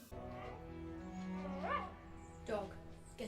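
A dog from a television show yips and whimpers in short bursts over steady background sound, with speech from the show woven in around it.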